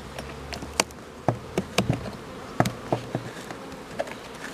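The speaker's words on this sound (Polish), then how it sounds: "teraz prezentuję ul, mój standardowy na 10 ramek" Honeybees buzz in and around a standard 10-frame wooden beehive at an apiary, a steady low hum of many insects heard close up, broken by scattered light knocks and taps.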